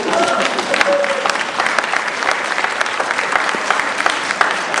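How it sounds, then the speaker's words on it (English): A seated audience at a talk on diversity applauds together, a dense, lively burst of clapping that stays loud and even throughout. "Now give yourself a round of applause again."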